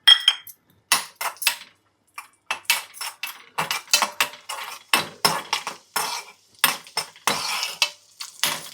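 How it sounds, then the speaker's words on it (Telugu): Cashews fry in hot ghee in a pan for sweet stuffed buns, a spoon scraping and stirring in quick repeated strokes over a steady sizzle, close and fairly loud with short pauses between strokes. "ఇప్పుడు నెయ్యి కాగింది, ఇందులో మనం జీడిపప్పులు వేసుకుందాము"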